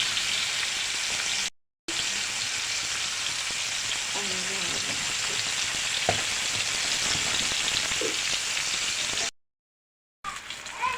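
Pangas fish pieces fry in hot oil with a dense, continuous sizzle up close, broken by two short silent gaps, with faint clinks and a trace of background voice.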